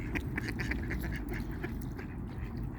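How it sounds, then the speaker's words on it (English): Ducks fight at a pond, giving off a quick run of harsh, overlapping quacks over a dense, noisy outdoor background that stays fairly faint throughout. "Whoa! Ducks fighting."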